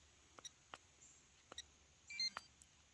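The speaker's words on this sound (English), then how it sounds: "There's a beep to let you know it's on." Quiet electronic beeps as a device turns on: a few short high tones, then a brief two-note chirp near the end, with soft clicks between them.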